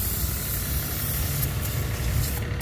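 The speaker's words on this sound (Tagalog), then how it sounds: "Will you hire Nick to wash your motor?" Water spraying steadily onto a motorcycle during a wash, a continuous close hiss with low rumble underneath and no talk.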